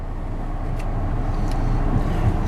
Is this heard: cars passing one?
yes